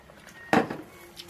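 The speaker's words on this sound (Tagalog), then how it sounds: "Lagyan na natin yung bamboo shoot." A single short clunk and splash as bamboo shoots drop into a boiling pot, surrounded by quiet kitchen background.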